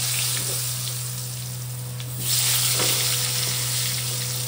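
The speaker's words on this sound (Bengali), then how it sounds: "একটু হালকা তেল গরম হয়েছে, আলুগুলো হালকা কষাবো" Potatoes fry lightly in hot oil in a pan for a Bengali-style chicken curry, making a continuous close sizzle that swells louder about halfway through, with a steady low hum beneath.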